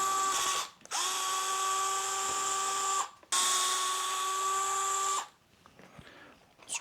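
Power drill spinning screws out of the bumper of a Traxxas Slash 2WD RC truck, two sustained whining bursts of a few seconds each with a short gap, close up and loud.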